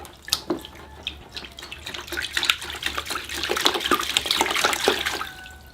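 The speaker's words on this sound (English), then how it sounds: "Okay, I think I'm ready to start washing the roots." Water splashes and trickles steadily over the roots of a cherry bonsai tree during repotting, a close, continuous wet rush with scattered drips that grows fuller toward the end.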